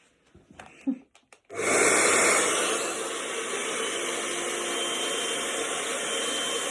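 A hair dryer blow-dries hair. After a few soft breathy rustles it switches on with a steady, close, rushing blast of air that continues evenly, with no talking.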